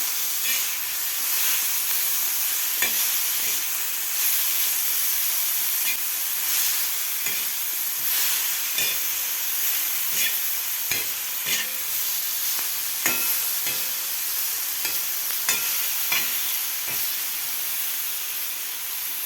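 Masala-coated green chillies fry in a pan with a steady, close sizzle and hiss, broken by regular scraping clicks of a spoon stirring them through the 19 seconds.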